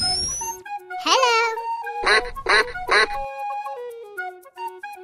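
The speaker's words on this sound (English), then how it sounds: "Duck." A cartoonish duck quacks in a short burst of several nasal calls during an animal guessing game, loud and close over a backing of electronic music tones.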